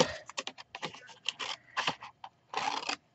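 Scissors snip through shimmer white cardstock by hand in a string of short, close, crisp cuts with brief gaps between them, and no one talks.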